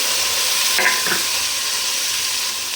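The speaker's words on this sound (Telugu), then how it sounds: "మనం ముందుగా సన్నగా కట్ చేసుకున్న టమాటాస్ వేసుకుందాం." Finely chopped tomatoes sizzle steadily in a hot pan for a home-cooked lentil curry, with a couple of brief scraping stirs partway through and no talk.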